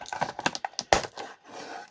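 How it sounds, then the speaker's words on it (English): Plastic ties being cut on toy packaging for Transformers figures, heard as a series of close small clicks and snips with one sharper crack near the middle, no talking. "let's get these cut. These terrible plastic ties."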